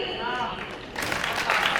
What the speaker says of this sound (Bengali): আমরা কি নিজেদের জন্য একটু হাততালি দিই?